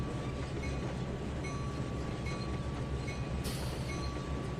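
Rolling rail noise from a train being split into sections in the Trainz 2019 railway simulator, a steady low rumble with wheel clatter and a brief hiss near the end, no talking.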